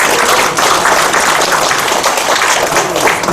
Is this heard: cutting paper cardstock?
no